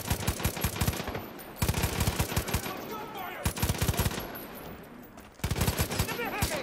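Bursts of rapid automatic gunfire from a Far Cry 5 firefight, several loud volleys separated by brief pauses, with dense overlapping shots and echoes.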